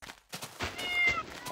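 A couple of short, close cat meows in a modded Minecraft game, with a light electronic tone, brief and moderately loud.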